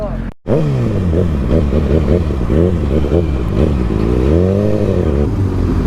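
A group of motorcycles riding together, engines revving and rising and falling in pitch close by, with someone talking over the engine noise.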